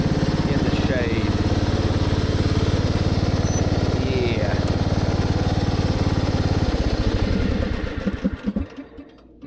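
Homemade racing lawn mower engine running loud and close with a steady, buzzy drone that sputters and fades toward the end as it winds down.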